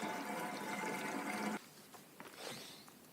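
Fuel from a brand new can pours steadily into a Honda generator tank with a hollow, rushing gurgle for about a second and a half, then stops, leaving faint drips and handling sounds.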